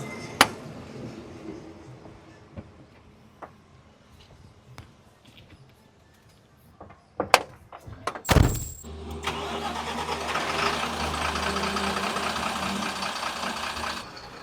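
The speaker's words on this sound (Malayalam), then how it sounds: "വണ്ടി ഒന്ന് സ്റ്റാർട്ട് ചെയ്യാൻ നേരത്തെ എയർ കയറട്ടെ" After scattered quiet clicks and knocks, a truck engine cranks and fires with a loud burst, then settles into a steady, rumbling idle as it runs to build air pressure.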